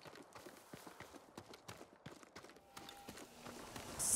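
A farm horse's hooves clip-clop at a steady walking pace on hard ground in the video game Ghost of Tsushima, fairly quiet, with a soft ambient background and a brief sharp noise at the end.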